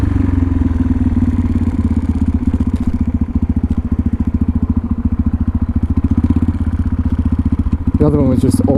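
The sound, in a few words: custom motorcycle engine riding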